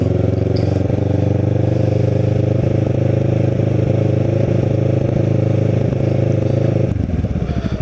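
Steady, loud engine drone of a Kawasaki Ninja motorcycle cruising on a ride from Cape May to North Cape May, with constant wind rush and a shift in engine tone near the end.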